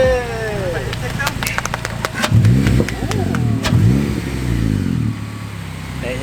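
A 2008 Subaru Legacy GT Spec B, lowered on ISC N1 coilovers, revs its engine with a throaty intake note, rising and falling in a couple of bursts while people talk and cheer nearby.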